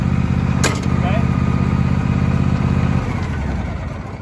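A John Deere E130 lawn tractor engine runs at a steady, loud idle close by, a constant low mechanical drone that eases slightly toward the end, with a brief click near the start.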